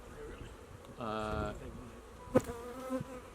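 Bees buzz at a hive in July, a faint steady hum with a brief louder burst, as a person talks nearby.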